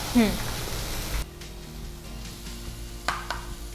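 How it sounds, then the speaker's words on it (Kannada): Tomato and cabbage fry in oil for a veg roll, giving a loud sizzle that drops abruptly to a quieter hiss, with a couple of utensil knocks and people talking over it. "ಚೆನ್ನಾಗಿ ಫ್ರೈ ಆಗಬೇಕಲ್ಲ ಇದೆಲ್ಲ ಎಣ್ಣೆಯಲ್ಲಿ"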